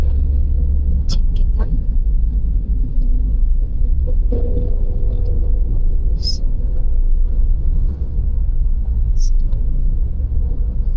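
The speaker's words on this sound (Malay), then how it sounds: "Kereta banyak." Road traffic heard from inside a moving car on the road from Labis to Kota Tinggi, a steady loud engine and tyre rumble with occasional brief passing sounds, while a person talks over it.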